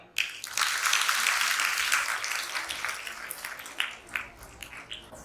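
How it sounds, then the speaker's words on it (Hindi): An audience at a Hindi-language introductory camp session in Valukad, Gujarat, bursts into sustained applause that starts abruptly, holds steady and loud, then thins into scattered claps as it fades. "तालियां"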